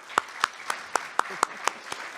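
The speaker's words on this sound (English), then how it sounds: "How about a big round of applause?" Sparse audience clapping: about nine sharp, evenly spaced claps in a steady slow rhythm, fairly close and moderately loud, with no talking over them.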